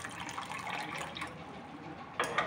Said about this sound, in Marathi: त्या वाटीमध्ये मी पाव चमचा मीठ घालते आणि त्यामध्ये अर्धी वाटी पाणी टाकायचं